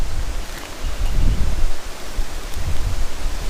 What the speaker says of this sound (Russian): Вон ветер какой.